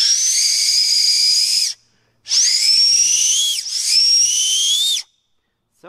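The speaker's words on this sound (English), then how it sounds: "So you can whistle very loud with this cupule" An acorn cap blown between the fingers as an improvised emergency whistle makes three long, piercing, shrill blasts with short gaps between them, very loud and close, no talking.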